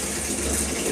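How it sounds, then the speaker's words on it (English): Water gushes steadily and loudly into a 100-gallon water drum, a continuous full rushing pour with no voices. "filling up 100-gallon water tank"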